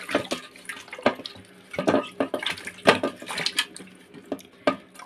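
Mangoes being washed by hand in a basin of water, with repeated splashes and sloshing at an uneven rhythm, close and fairly loud, no talking.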